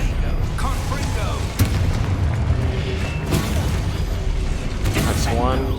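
A Confringo explosion spell goes off in the video game Hogwarts Legacy, deep booms and crackling bursts thudding through a busy fight soundscape, with a voice calling out among them.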